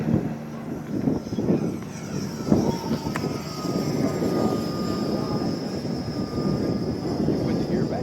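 An E-flite Twin Otter 1.2m RC model airplane flies on a windy day in Arizona, its twin electric motors giving a sustained buzzing drone that swells as the plane passes, with wind noise and people talking nearby.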